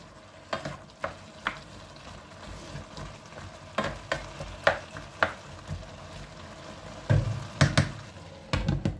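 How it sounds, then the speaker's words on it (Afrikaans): Carrots cook in a hot pan, giving a steady low sizzle broken by intermittent knocks and scrapes of stirring. "Ek gaan sommer die worteltjies hier tussenin gooi, dat hulle ook so lang kan begin kook."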